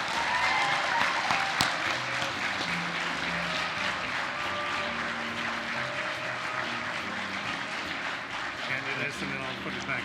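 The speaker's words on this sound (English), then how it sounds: "please join me in a big, loud round of applause for Darrell Steffensmeier" Applause from an audience at a criminology society award address, a broad continuous wash of clapping with some talk and murmuring mixed underneath.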